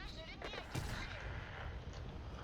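A tank's main gun fires once in a tank video game, a sharp broadband blast near the middle of the clip over a steady background rumble of engine and battle noise, with a faint voice present.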